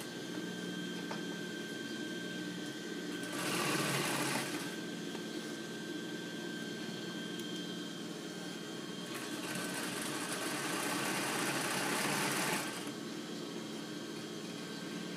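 A straight-stitch sewing machine runs stitching with two contrasting thread colours in two bursts of fast, buzzing whir over a steady background hum, with a pause between runs.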